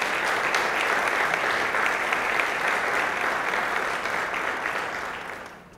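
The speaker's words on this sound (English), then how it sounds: "Let's give her another round of applause." Steady, dense audience applause fills a lecture hall, sustained and even before fading out at the end.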